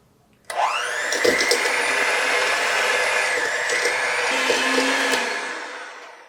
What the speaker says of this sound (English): I'm gonna just start creaming her away. And if you'll notice, a new mixer.